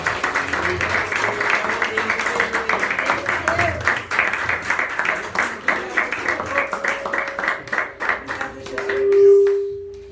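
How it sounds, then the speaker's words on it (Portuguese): A church congregation claps in rhythm during a worship service, the sharp regular claps mixed with voices singing, until the clapping thins out near the end. "E as palmas são para o Senhor."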